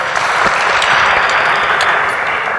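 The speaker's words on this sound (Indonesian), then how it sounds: "Tepuk tangan buat Carol" Steady audience applause fills the room at a talk-show style event, loud and continuous for a few seconds with no voices on top.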